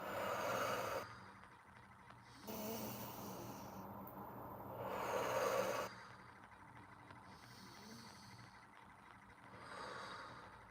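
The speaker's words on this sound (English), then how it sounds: "and breathing out." Long, soft exhalations during a morning qigong breathing exercise come in several slow, breathy waves, quiet and close, with hushed pauses between them.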